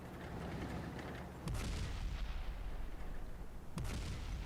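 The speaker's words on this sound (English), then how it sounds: "load the heat, put one through the front of his turret, and that takes him out of the game" A Leopard 1 tank gun firing a HEAT round in World of Tanks console, two sharp booming shots a couple of seconds apart, each with a rumbling decay, over a low battle background.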